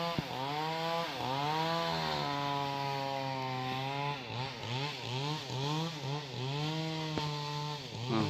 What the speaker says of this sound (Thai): ขอโทษขออภัยเสียง จักรบกวน